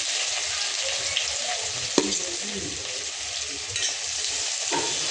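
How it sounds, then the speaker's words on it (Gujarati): Cumin, garlic paste and chopped onion fry in hot oil for Mexican rice, giving a steady close sizzle with a few sharp spatters and faint scraping stirs, and no talking. "આપણે જીરું બ્રાઉન કલરનું થાય એટલે એમાં આપણે નાખીશું લસણની પેસ્ટ, ત્યારબાદ ડુંગળી કટ કરેલી"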